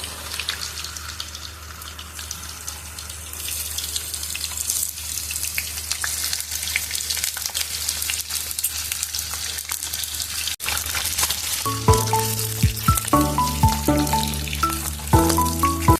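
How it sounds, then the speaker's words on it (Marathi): Paneer fries in plenty of hot oil for a dhaba-style paneer butter masala, giving a steady close sizzle throughout, joined near the end by clinking and stirring sounds. "पनीरला छान तळून घ्यायचं"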